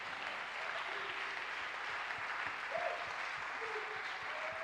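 A church congregation applauds Jesus Christ during a worship service, steady sustained clapping from many hands with a rhythmic beat running underneath and faint voices calling out within the crowd.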